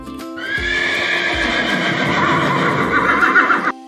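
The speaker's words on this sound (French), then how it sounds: "le cheval hennit en secouant sa crinière." A horse in a farm meadow gives a loud, drawn-out whinny lasting several seconds, with a few hoof clip-clops at the start and no voices.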